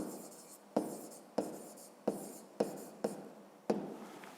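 Pen or pencil writing on paper during a 5th-grade math exercise, heard as six or seven distinct scratchy strokes at regular intervals, close and fairly quiet, with no talking.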